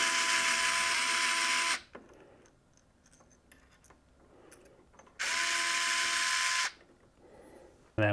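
An electric screwdriver backs out two screws from a PC case fan bracket, two loud sustained whirring bursts separated by quiet handling clicks.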